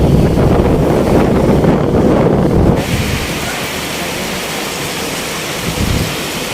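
Heavy rain roars loudly and steadily, with gusty wind rumbling against the microphone before easing into a softer, continuous downpour.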